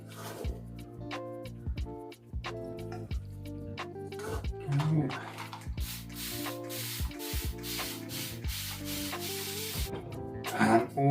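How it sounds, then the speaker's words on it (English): Substrate is poured and pushed into a Psalmopoeus reduncus (Costa Rican orange mouth tarantula) enclosure, making repeated rubbing, scraping and sprinkling sounds close by over background music. "Some more substrate."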